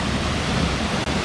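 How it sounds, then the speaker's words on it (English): A small waterfall in the Brecon Beacons, Wales, gives a steady, loud rush of falling water with no break, close by and with no voices over it. "this is quite an impressive little waterfall"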